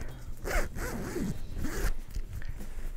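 A zipper being pulled shut along a zippered fabric pillow cover with the pillow inside, several short ratcheting zip strokes close to the microphone with brief pauses between them.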